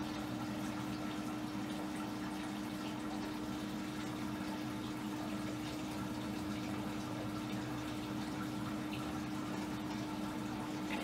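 Moosehead Cranberry Radler beer poured into a glass, a steady close-up gushing and foaming pour that runs unbroken for about eleven seconds over a low hum.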